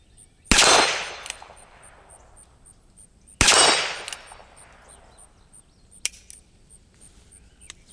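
A Ruger Wrangler .22LR fires two spaced shots, each a sharp crack followed by a ringing clang from a steel cowboy target, with a faint high electronic beep pulsing throughout and small clicks near the end.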